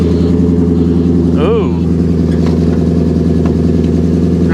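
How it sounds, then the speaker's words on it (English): A car's exhaust note, escaping from under the hood rather than the rear, drones as a loud, steady low rumble close by, with a person speaking briefly over it. "Let's go listen to that exhaust."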